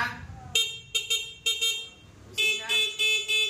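Horn of a 200cc 4x2 ATV honking in short bursts: three quick close toots, a pause, then a longer run of repeated honks, loud and close with no talk over them.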